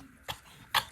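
A goat coughs twice on a cold morning, two short harsh hacking bursts close by with a quiet pause between them.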